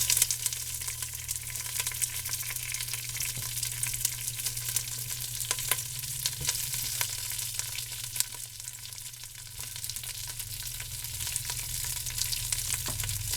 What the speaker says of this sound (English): we're going to add some olive oil. And just throw in your cabbage.